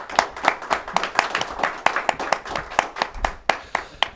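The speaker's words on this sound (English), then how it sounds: "Hey, round of applause for that." Applause breaks out for a congresswoman's veterans and military liaison on a local evening talk show, with about fifteen sharp, evenly spaced claps close to the mic, as if only a few people were clapping, and no talk over them.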